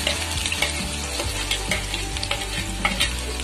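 Onions, added to a pan with a little cumin for Indian-style pasta, sizzle steadily and loudly close up, with repeated scraping stir strokes cutting through the continuous frying hiss; nobody speaks.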